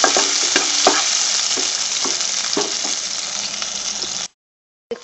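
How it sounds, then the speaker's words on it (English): Onions, chilies, garlic and ginger stir-fried together in a pan, a loud, close sizzle broken by regular spatula scrapes and taps, ending abruptly in silence with a short return of sound. "onions, the chilies, and the garlic, ginger, and stir for some time."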